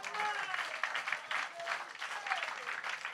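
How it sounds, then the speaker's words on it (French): Church congregation clapping steadily for a few seconds at a Sunday service, a dense wash of applause with some voices mixed in. "Applaudissez le Seigneur"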